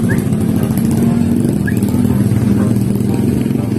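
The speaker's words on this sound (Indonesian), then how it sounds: "Wah itu biasa motor kan." A motorcycle engine idles and runs steadily up close, a loud, continuous low rumble with a buzzing edge and no break over a few seconds.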